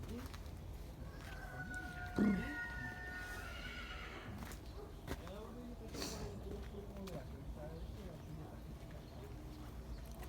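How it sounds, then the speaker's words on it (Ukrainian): A horse gives a clear neigh early on, with more whinnying and snorts afterward from a mare and her foal, alongside quiet talk and faint bird sounds in a village. "Кобила з лошаком."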